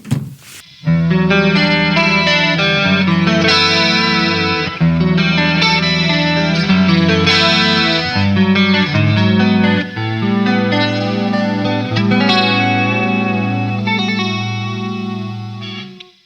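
Clean electric guitar chords played through an Enya Inspire guitar's built-in chorus effect ring out over several bars with a shimmering sound, loud and close, with no talking.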